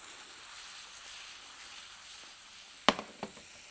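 Rice with cumin and black pepper sizzles softly in a pan, a low steady hiss followed by a couple of sharp clinks as a spoon stirs near the end.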